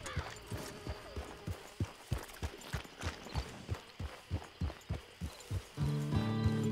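Horse hooves clip-clop at a steady walking pace in the Red Dead Redemption Online video game, with sharp, evenly spaced close-up steps. A sustained tonal sound swells in near the end.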